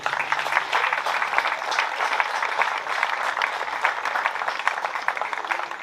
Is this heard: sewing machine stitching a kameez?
no